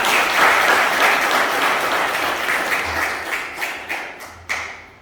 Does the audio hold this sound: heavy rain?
no